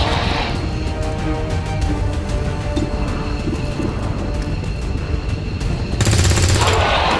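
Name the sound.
gunfire in XCOM 2 Long War video game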